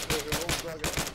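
Quick bursts of rifle fire in ArmA 3 combat, several close, sharp shots in a rapid rhythm, with a voice partly mixed in.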